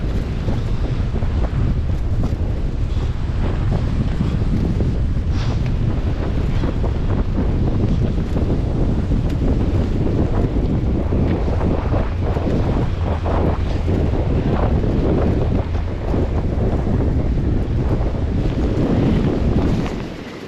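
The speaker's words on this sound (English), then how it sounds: "our wind has got to be easy 35-40 mile an hour" Strong wind of about 35-40 mph buffets the microphone by the water, a loud continuous roar with gusting rumble and surf-like wash throughout, no voices.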